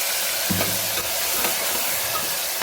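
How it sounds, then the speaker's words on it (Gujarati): Chopped long beans, eggplant and potato frying in a pan over a low gas flame, giving a continuous close sizzle with a few faint clinks of stirring and no speech. "જે મેં શાક કટ કરી છે ચોળી, રીંગણ, બટાકા એ થોડું નાખી દઈશું"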